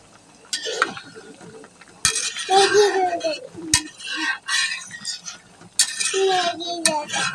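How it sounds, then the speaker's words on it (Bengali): A pot lid lifts off a hilsa fish curry with potatoes, bringing sharp metallic clanks and clinks of utensils in bursts, with scraping and stirring between them. "ডাকনাটা খুলে দেখি তরকারিটা জ্বালা আসছে কিনা"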